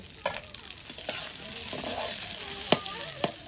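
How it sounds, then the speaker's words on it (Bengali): Koi fish fry in hot oil in a pan with a steady, faint sizzle. A few sharp clinks and scrapes of stirring stand out above the hiss. "আগের দিনকার ভাজা কই মাছ ছিল আর একটু ভেজে নেবো তেলে"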